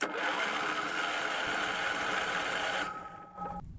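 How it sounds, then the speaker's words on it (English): Generator engine cranking on a LiFePO4 battery, a steady droning churn of the starter lasting a few seconds, then dropping off abruptly, close and fairly loud with no talking. "And we're going to crank this one more time."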